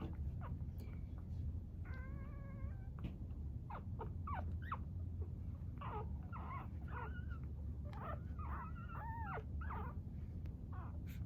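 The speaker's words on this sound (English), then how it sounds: "So there's a glimpse at Twizzler and Chewy's puppies" One-week-old puppies whimper and squeak in a string of thin, wavering cries, close and fairly soft over a steady low hum, with no talking.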